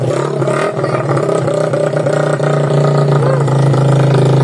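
Rusi TC125 motorcycle engine catching and being revved, a nearby mid-pitched drone rising and falling through several short throttle blips, with no voices over it.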